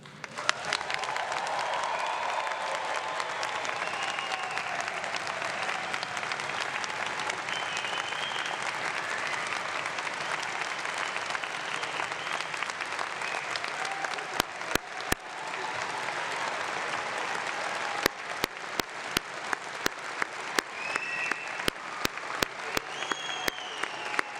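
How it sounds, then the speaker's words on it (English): A large university convocation audience gives sustained, thunderous applause, a loud, even roar of many hands that holds for the whole stretch, with sharp individual claps standing out in the later part. "I promised there would be a moment for truly thunderous applause, and this is that moment"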